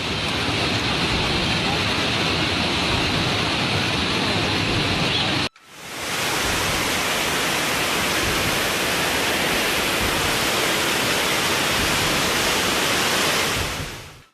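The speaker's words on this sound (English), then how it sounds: "Heavy rain in Chongqing, China threatens rivers." Heavy rain pours down in Chongqing, China, a dense, continuous roar of falling water that breaks off briefly and then resumes just as loud.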